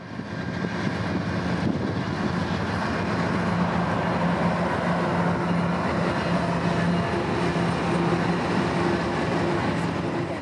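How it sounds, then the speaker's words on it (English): M421 train from Rocky Mount passing near Brunswick Junction on the A-line, a loud, steady rumble of rolling stock that holds without a break, with no voices. "trains like this M421 from Rocky Mount will pass on their final stretch of their long out-of-state journey"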